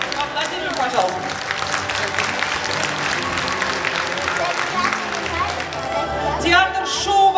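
Applause at a year-end concert rolls on as a steady, crowded patter of clapping mixed with music, while an announcer speaks over it and a short cheer rises at the close.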